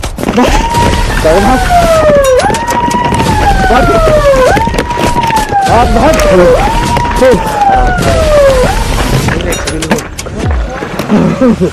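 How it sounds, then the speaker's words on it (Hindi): A loud wailing forest rangers' siren rising and falling in repeated sweeping cycles, close by, with voices and background commotion mixed underneath. "फॉरेस्ट रेंजर्स ने सायरन बजाना शुरू कर दिया।"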